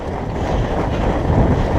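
Strong wind roars and buffets the microphone continuously over open fields during a winter night fat-bike ride, a loud broadband rush with no voices.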